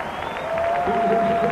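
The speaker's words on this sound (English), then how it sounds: "Now here comes the team, and you can hear the roar of the crowd, giving their appreciation." Stadium crowd at a Louisville versus North Carolina college football game roars as the team takes the field, a broad, steady wash of cheering and applause at a distance with a faint whistle tone running through it.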